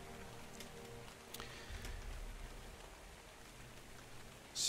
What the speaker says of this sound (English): Looks like normal rain. It's white rain.